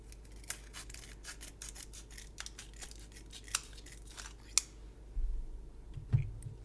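A package of Gouda Parmesan cheese being cut open with scissors, a string of quick, faint snips and crinkles close by, ending in a single louder clunk, with no talking.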